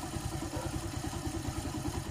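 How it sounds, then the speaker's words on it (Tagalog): A Kawasaki Fury 125 motorcycle engine idles steadily nearby after carburetor tuning, a low rhythmic chugging with a light mechanical clatter, no voices. "medyo okay na yung tunog ng ating makina."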